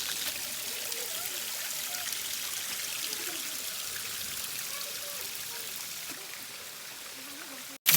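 A waterfall in Ukraine's Yampil area pours in a steady, even hiss of falling water, moderately distant and continuous throughout, with no talking.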